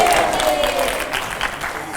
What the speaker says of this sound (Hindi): जोरदार तालियां, जोरदार तालियां।